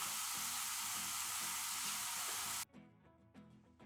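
Bacon cooks inside a closed waffle maker with a loud, steady sizzling hiss that suddenly drops away near the end, leaving quieter crackles and pops.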